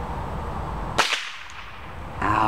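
A single sharp, loud crack from a Gamo Whisper Fusion IGT air rifle firing a pellet, rising abruptly out of steady outdoor background noise and decaying quickly. Another rustle follows near the end.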